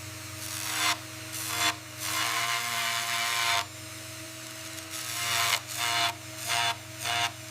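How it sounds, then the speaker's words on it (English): Power tools whir steadily while saws, grinders and sanders shape pieces of Brahman bull horn, the drone rising and dipping as the tools bite into the workpiece in repeated passes. "Specialized saws, grinders, and sanders gradually shape each horn component"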